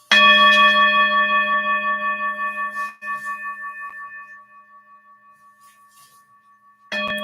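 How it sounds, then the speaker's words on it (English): A singing bowl is struck and rings out with a clear, bell-like tone and layered overtones that slowly fade. A second strike sounds near the end, close and loud, with no voices over it. "It's a singing bowl."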